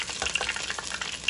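Steady crackling sizzle of cornmeal-coated chicken frying in hot oil, with bursts of popping spatter throughout, fairly close and without any talking.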